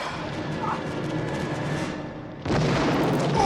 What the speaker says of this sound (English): practical explosions never disappoint